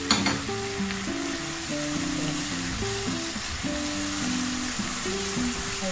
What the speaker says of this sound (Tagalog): Lagay na rin natin ang celery at saka bawang.